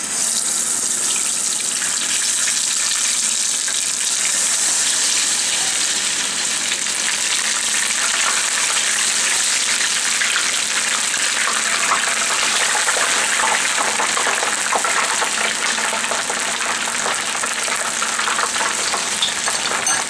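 Beer-battered fish pieces frying in hot oil, a steady, loud, close crackling sizzle with a bubbling hiss that holds evenly throughout, no talk over it.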